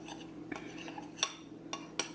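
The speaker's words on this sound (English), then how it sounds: "And then you just stir this on up." Homemade lavender diaper cream stirred in a container gives faint, close scraping and a few sharp clinks of utensil against the side, spaced irregularly over a quiet background.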